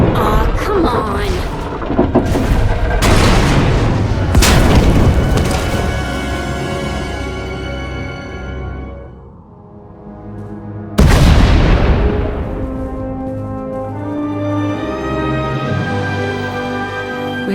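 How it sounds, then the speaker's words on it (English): Deep booming explosions and a tunnel collapse in the video game SWTOR: a few heavy, loud blasts, the last crashing in after a brief lull, ringing over sustained tonal game music. "We heard explosions, the tunnel collapsed."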